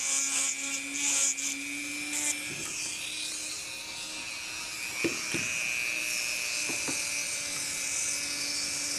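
A rotary tool trims and smooths an autocure acrylic resin custom tray, its steady high-pitched whine running throughout with a few brief gritty bursts as it bites into the rough spots.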